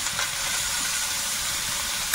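Grated ginger sizzling in a little hot oil in a pan, a steady close hiss with faint crackle throughout, no talking.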